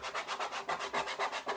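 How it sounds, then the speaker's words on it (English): A scraper pushes old paste off a wooden board in quick, even back-and-forth strokes, about a dozen rasping scrapes in a row, close and loud. "So let's just scrape this old paste off."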